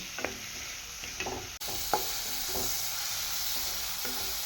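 A spice paste loosened with a little water sputters and fries in a pan for cholar dal with cauliflower, with scraping stirs and clinks of a spoon over a steady close hiss.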